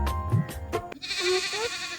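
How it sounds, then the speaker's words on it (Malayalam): A goat bleats a few times in short wavering calls near a rural paddy field, after some indistinct rustling and knocks at the start. "ഷാജിപ്പാപ്പന്റെ ആട്ടുമാവയുടെ ഒച്ച കേൾക്കണെയാണ്."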